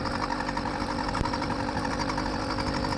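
A 100cc two-stroke motorized bicycle engine idles steadily on a warm day, a loud, continuous buzzing rattle with a fast, even pulse and no talking over it.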